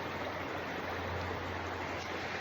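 Clear river water rushes steadily as a dense, continuous broadband hiss, close and unchanging, with no voices.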